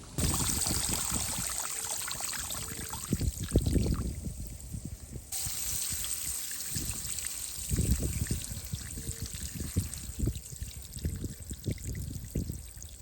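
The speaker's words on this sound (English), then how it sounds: "It's starting to restrict the flow of water." Water trickles and pours from drip irrigation bubblers in a yard as they are turned down, a close gurgling stream broken by brief handling clunks and a short pause before the flow resumes.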